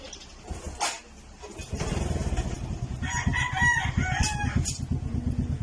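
Roosters brought from Aklan crow loudly and repeatedly, with chickens clucking and a motorcycle engine rumbling steadily underneath.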